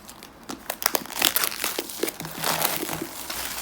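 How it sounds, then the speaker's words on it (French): Crinkling and tearing of plastic wrapping as a VHS Box edition of Le Ninja Blanc is unwrapped, close and steady with rustling bursts and no talk. "Là je déballe."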